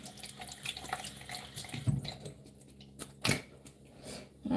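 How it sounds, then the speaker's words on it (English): Water runs steadily from a bathroom tap into a sink for face washing, with splashes and brief drips close by and no talking. "I gotta wash my face."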